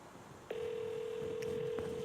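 Telephone ringback tone on an outgoing call, one steady sustained tone starting after a brief quiet moment and holding for over a second, clear and alone.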